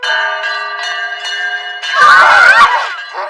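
A ringing bell at a fancy doorway in an anime scene, struck repeatedly and fairly loud, with a burst of noisy commotion partway through.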